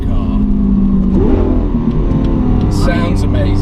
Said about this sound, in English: It's a phenomenal engine.